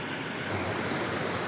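Water flows steadily at the Trinity River, a continuous broadband rush close by with a faint wind-like hiss and no talking.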